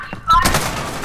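A burst of gunfire in a Modern Warfare match cracks sharply and loudly, then decays into a ringing echo, with a voice speaking just before the shots.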